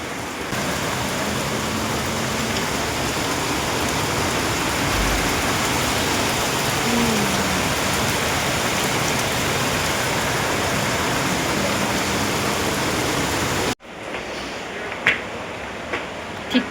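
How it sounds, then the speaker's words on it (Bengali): Dense, roaring downpour of heavy monsoon rain hissing steadily, then cutting to a quieter patter with a few distinct drips and knocks. "এত বৃষ্টি হচ্ছে আজকে সারাদিনই বৃষ্টি হচ্ছে এখন আবার বৃষ্টিটা বাড়লো"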